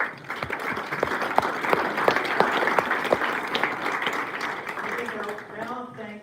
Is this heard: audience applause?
yes